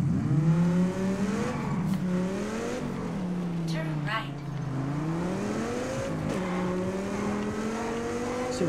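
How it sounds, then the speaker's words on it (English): An Audi TT RS drives in the racing game Test Drive Unlimited Solar Crown, its engine note rising and falling steadily through gear changes, loud and close, with a voice talking over it at times. "We are now driving the new Audi"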